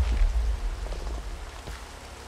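Steady rain hiss across a Naruto-themed Minecraft modded game world, a continuous wash of falling drops with a few faint clicks and bumps underneath, no voices.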